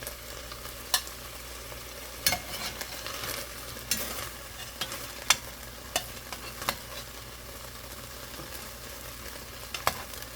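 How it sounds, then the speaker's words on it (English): Red onion and garlic sizzling in a pan for elk stew, a soft continuous fry with sharp scraping stirs and taps recurring every second or two, close and fairly quiet. "while we cook our onions and our garlic"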